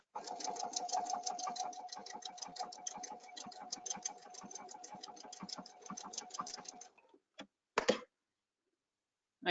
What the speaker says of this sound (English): I'm going to let it sew until it stops again